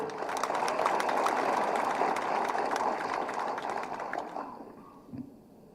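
Applause from a crowd at a Tamil public debate speech, a broad sustained wash of many hands clapping that holds steady and then fades out near the end.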